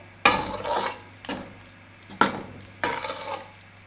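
A spoon stirs maida flour roasting in a pan on a low flame, producing four distinct scraping strokes with short pauses between them over a faint steady hum.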